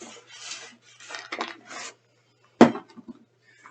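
A well-used metal camping kettle is handled at close range: soft rustling and scraping, then one sharp metallic clank followed by a few lighter knocks and rattles, with quiet gaps between.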